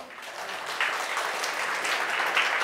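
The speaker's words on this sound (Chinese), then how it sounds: "给个掌声耶稣好不好？" A church congregation claps together in sustained, steady applause that fills the room, fairly loud and continuous for a few seconds with no one speaking over it.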